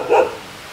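A dog gives a single short bark in a forest, fairly close and loud against quiet surroundings.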